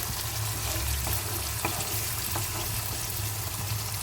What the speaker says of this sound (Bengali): আর একটু কষিয়ে নিয়ে এর মধ্যে আলু ফুলকপিগুলো অ্যাড করে দেব।